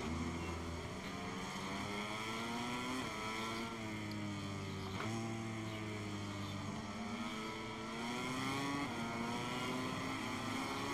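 Motorcycle engines roar in the video game MotoGP 23, a continuous buzzing drone with rising and falling pitch as the bikes shift, steady and fairly even throughout with no talking.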